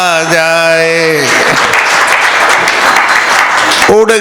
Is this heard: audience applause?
yes